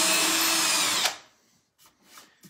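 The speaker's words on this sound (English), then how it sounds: "And I just, nice and easy, just drill the hole up, start drilling the hole out." Power drill fitted with a 1/8 inch bit boring a pilot hole to resize furniture handles: a loud, steady whine for about a second, then it stops, followed by a few faint knocks and handling sounds.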